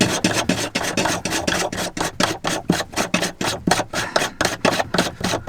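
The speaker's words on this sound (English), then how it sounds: "it's a case of unscrewing that bit there" A part is being unscrewed from a broken item, making a steady run of rasping, scraping strokes in a rapid, even rhythm, close and fairly loud, with no voices.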